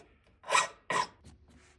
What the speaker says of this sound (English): Switch to this smaller file because I think it's a finer grit, and we'll just work over all the sides.